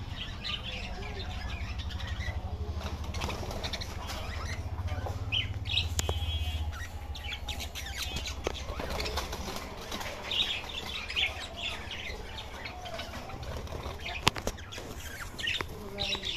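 Diamond doves flutter and flap their wings in short bursts, with soft chirps and cooing nearby and a faint voice in the background, in a bird shop.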